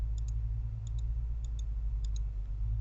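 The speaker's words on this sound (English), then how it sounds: "So I'm just clicking on the preview to go back and forth to check my image" Mouse button clicks while previewing an image in Photoshop: four quick pairs of crisp double clicks, evenly spaced over a low steady hum.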